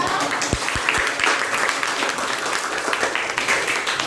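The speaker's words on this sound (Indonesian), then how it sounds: "Kita berikan aplaus ya" Applause from a classroom audience after a student presenter finishes, dense steady clapping throughout, loud and close, with a few sharper individual claps standing out.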